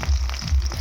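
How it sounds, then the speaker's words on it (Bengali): Capsicum frying briefly in a pan for an egg chili curry, giving a steady close sizzle with low bubbling crackle across the short stretch, no voices. "এখানে ক্যাপসিকামটা আমরা অল্প পরিমাণ ভেজে নিয়েছি।"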